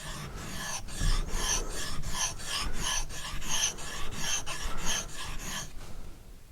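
A knife blade stroked across a sharpening stone to form a convex bevel, about a dozen rhythmic back-and-forth rasping strokes at an even pace, close and clear, with no voices.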